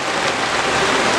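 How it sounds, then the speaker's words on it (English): Steady rain pouring down on an outdoor golf course in Shillong, a dense continuous hiss with no voices. "the rain is playing spoil sport today"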